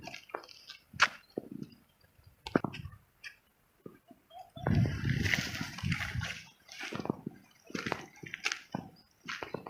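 Overflow water from a full lake runs and splashes in uneven bursts, with one longer rushing stretch midway, fairly close and with no talk.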